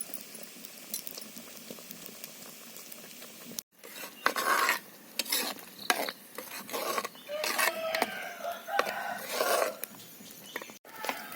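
Fish cooks in hot oil with masala in a pan, sizzling and bubbling steadily while a spoon scrapes and stirs through it in rough, irregular bursts, close by and with no talking.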